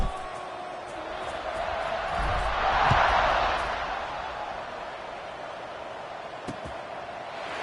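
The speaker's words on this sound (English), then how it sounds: "this crowd is feeling themselves after that last drive" Stadium crowd in College Football 26 during a kickoff, a broad roar that swells midway and then settles into a steady wash, with a couple of sharp thuds.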